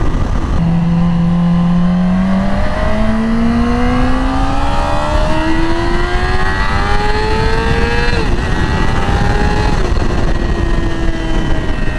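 A 2020 Yamaha R6 sport motorcycle engine revs hard, its pitch climbing steadily through high RPM in a loud, screaming whine, with brief dips between pulls.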